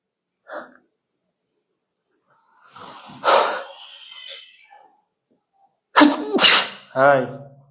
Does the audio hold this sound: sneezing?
yes